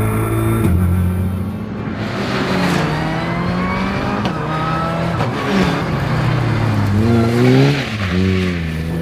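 An Opel Adam Cup rally car with a five-speed gearbox and hydraulic handbrake drives hard, its engine loud and close, rising and falling through revs and gear changes over continuous road noise.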